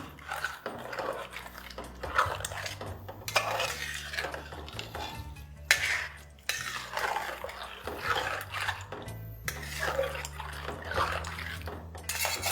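Spices are mixed into biryani in a pot, with repeated metallic scraping and clanking of a utensil against the pot in rhythmic strokes, close and continuous.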